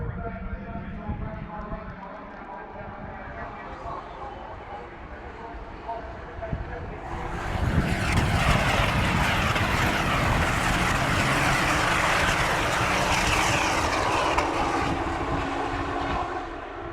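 Ferrari Challenge race cars, including a 430 Scuderia, roar past on the Brands Hatch circuit, a steady engine drone swelling into a loud, bright, sustained blare as the pack goes by.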